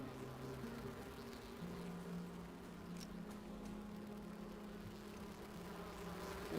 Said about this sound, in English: I feel like I hear bees right now, too.